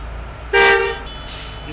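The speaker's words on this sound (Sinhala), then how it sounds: "හෝන් එකක් ගහමු." A bus horn sounds in the Bus Simulator Indonesia video game, one loud, sharp honk followed a moment later by a shorter, fainter second blast over a low engine hum.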